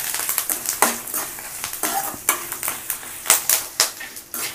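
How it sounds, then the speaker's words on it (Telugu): Coriander seeds, curry leaves and dried red chillies dry-roast on low heat in a pan for idli podi. A spoon stirs them in quick scraping strokes over a soft crackle, with irregular, close, sharp rustles. "మొత్తం ఈ ధనియాలు, కరివేపాకు, ఎండుమిర్చి సిమ్లో పెట్టుకొని వేయించుకోండి."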